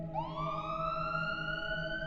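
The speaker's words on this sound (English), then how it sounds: "I heard the sound of police sirens closing in." A police siren wails upward into a rising, sustained tone, heard alone and fairly loud as it closes in, within a spooky told horror story.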